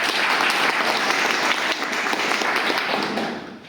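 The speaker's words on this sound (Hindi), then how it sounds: "एक जोरदार ताली सीताराम" A seminar crowd in a Dhaka city hotel gives Sitaram a hearty round of applause. The sustained, loud clapping fills the room and thins out toward the end.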